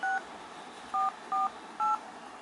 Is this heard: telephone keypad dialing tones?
yes